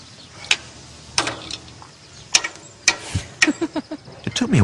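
A lever on an M&M reward machine is lifted, giving a string of sharp plastic clicks and ratcheting knocks, with a faster cluster of clicks toward the end; close and fairly loud, with no talking.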